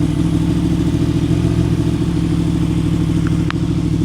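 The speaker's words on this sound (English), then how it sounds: "that's the sound of this Crossplane 4 engine" A Yamaha MT-10 crossplane four-cylinder motorcycle engine runs loud and close with a steady, throbbing low rumble, holding at a constant idle-like pace with a brief click near the end.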